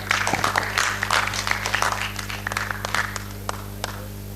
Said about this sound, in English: Let's have a big round of applause, everyone.